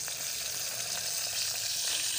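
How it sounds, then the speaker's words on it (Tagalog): Fish frying in a pan gives a dense, steady sizzle with small crackles and pops, close and continuous throughout. "Prito kong isda, guys."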